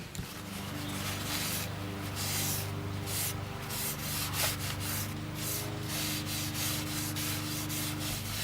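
Sanding a wooden guitar pickguard, a continuous close rasping scrub with rhythmic back-and-forth strokes over a steady background hum.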